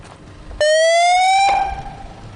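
A siren blares in with a sudden loud rising wail, holds for about a second, then cuts off sharply and fades.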